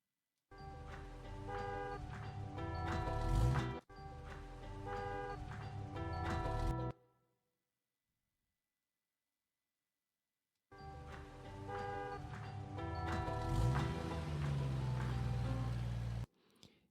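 A bus horn hoots in repeated tonal blasts over engine and traffic noise, loud and sustained in two long stretches separated by several seconds of silence, with a final short burst at the end.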